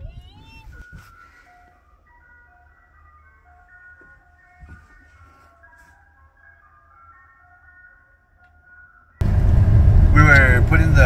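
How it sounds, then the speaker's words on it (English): An ice cream truck's tinkling jingle melody drifts in faint and distant for several seconds over near silence, before a sudden louder burst of mixed noise takes over at the end. "we hear the ice cream truck"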